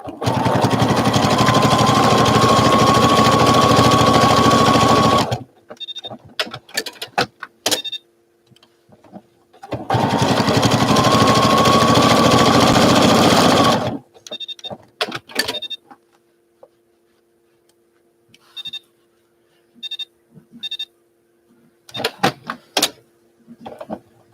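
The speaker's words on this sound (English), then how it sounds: "so this is a thinner thread, so I do a little more stitches in place to get the flower" A sewing machine stitching with thin thread runs in two loud, steady bursts of about five seconds each. Between the bursts come quiet gaps with small clicks and handling noises.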